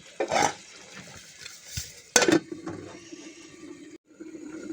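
A ghora fish curry with spices being stirred in a pan, a few sharp utensil clanks and scrapes over a low simmering background.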